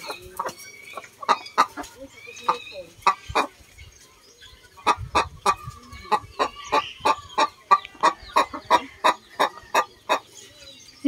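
Chickens on a farm, a rooster and a hen, clucking in a steady series of sharp, repeated calls that quicken into a dense run in the second half, close by with no talk.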